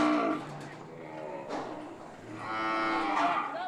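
Beef cattle on a station in the remote Kimberley region low repeatedly, several drawn-out moos rising and falling over a few seconds at moderate distance.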